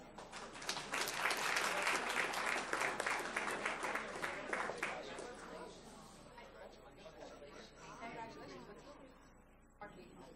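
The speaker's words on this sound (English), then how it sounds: "Let's give them all a round of applause." A school board meeting audience bursts into dense applause, loud for the first five seconds and then thinning into scattered clapping and crowd chatter that fades toward the end.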